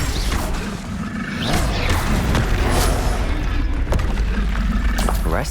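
A Defendo shield spell is cast in Hogwarts Legacy, a dense rumbling magical burst with heavy booming low end, crashing mechanical clatter and sharp transient cracks sustained for several seconds.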